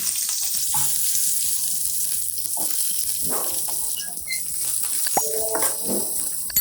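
Cut vegetables hit hot oil seasoned with cumin and mustard seeds, raising a loud, steady sizzle with scattered pops and light stirring scrapes that run close and continuous, with no voices.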